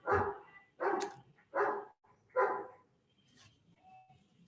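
A dog barks four times in a steady sequence, fairly close and clear, followed by a couple of fainter trailing yips in an otherwise quiet room.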